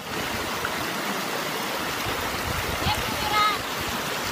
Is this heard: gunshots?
no